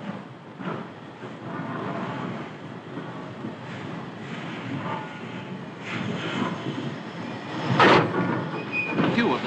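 A large train rumbles at a busy London terminus station in 1944, a steady low roar with clattering and hiss, swelling louder near the end.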